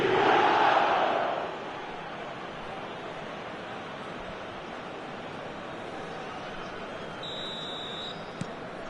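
Roaring stadium crowd in a football video game, loud for the first second, then settling into a steady, distant murmur of cheering with a brief high electronic tone near the end.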